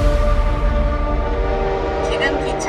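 A train rolls past with a steady rumble and a sustained horn tone through the whole stretch, layered with trailer-style music and effects as a voice narrates over it, while a brighter burst rises near the end.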